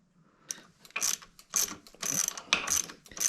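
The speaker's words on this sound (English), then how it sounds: "So we're just going to get one of the bolts all the way tight first." A ratchet wrench tightens bolts on a CRF150F engine being built with BBR high-performance parts, clicking in quick close bursts separated by short pauses, with no talk.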